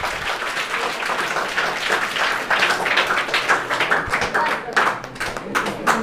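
At a coaching-class prize distribution, an audience claps continuously for several seconds, a dense, fairly close ripple of hand claps, with a voice speaking faintly over it.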